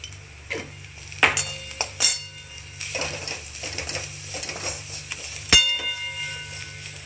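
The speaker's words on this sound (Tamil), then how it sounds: "தேவையான அளவுக்கு நம்ம உப்பு போட்டு அதை கிண்டி கொடுத்துக்கலாம்." Ground paste being stirred into onions with salt in a pan, heard as scattered clinks and scrapes of a spoon against metal over a low steady hum, moderately close.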